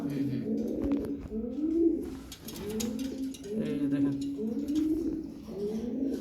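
Several military and homer pigeons coo repeatedly in low, throaty warbling phrases, close and overlapping, with a brief word spoken partway through.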